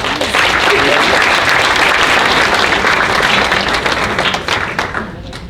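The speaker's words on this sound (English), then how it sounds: "Give them a round of applause." A school awards evening audience applauds in a dense, loud burst of clapping that holds steady for several seconds, then thins out and fades toward the end.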